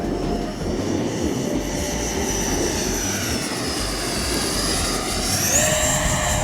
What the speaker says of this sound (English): We've never seen a foam scale jet fly like a sport jet before.